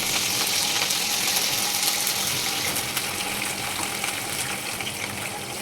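Whole garam masala, green chillies and curry leaves hitting hot oil for meal maker curry, a loud continuous crackling sizzle with spattering pops, steady throughout and without voices.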